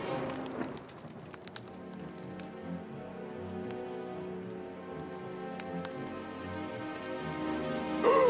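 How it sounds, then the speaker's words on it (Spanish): Heavy rain pours down in an animated cartoon scene, a dense, steady hiss of drops hitting surfaces with a few sharper drips, continuous and fairly loud throughout. "¡Llueve a cántaros!"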